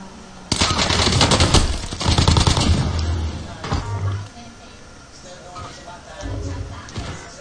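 Rapid bursts of automatic gunfire in a shooter video game, loud clattering volleys followed by quieter scattered shots, with a player talking over the action.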